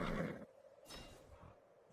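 A horse whinnies in the Ark survival game, a loud, rising neigh in the opening half-second followed by a shorter breathy snort and quieter rustling, with no talking.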